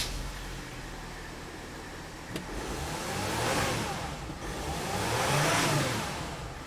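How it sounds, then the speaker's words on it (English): A Mercedes/Dodge Sprinter diesel engine with a particulate filter starts with a sharp click and settles into a steady idle, swelling twice in loudness as it runs, close by with no talk. "now I'm going to start the engine and then we will watch the data"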